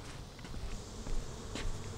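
Honey bees buzz densely around beehives on a bee farm during a honey harvest, a steady close swarm hum with a few louder passes near the microphone.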